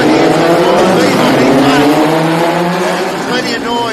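A field of 43 Formula Vee race cars roars off the start at The Bend's Shell V-Power Motorsport Park, a loud dense wall of rising engine notes under continuous excited commentary.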